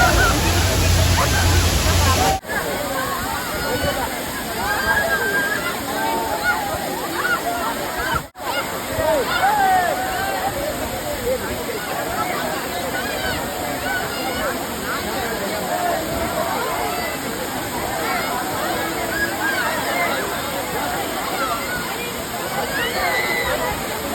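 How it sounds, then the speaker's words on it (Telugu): Dudhsagar waterfall in Goa roars with rushing, sloshing water, a loud continuous wash that runs throughout, with crowd babble and a few voices mixed under it. "వాటర్ ఫాల్ ఇది."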